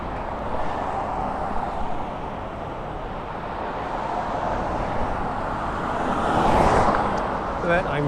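A silver car passes on busy Warden Avenue in Toronto, its steady road roar swelling briefly as it goes by amid constant traffic noise; someone speaks quietly nearby.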